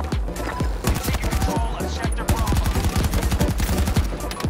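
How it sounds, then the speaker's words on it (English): Gunfire in the Battlefield video game: rapid, dense bursts of shots ring out almost continuously, loud and near, with a brief lull midway and faint talk underneath. "Why is he shooting me?"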